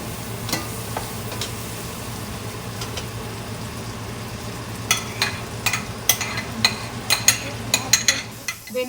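Onions sizzle and crackle in a hot pan for butter chicken beneath a steady low hum, with sharper pops and stirring clicks building toward the end.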